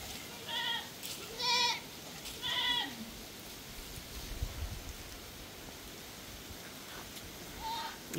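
Boer and Anglo-Nubian crossbred goats bleating on a farm near their pens: several short, clear bleats at moderate distance, spaced apart over a soft, rain-like background hiss.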